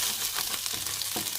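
Food frying in a pan, a steady faint sizzle with soft stirring scrapes, close and continuous with no talk.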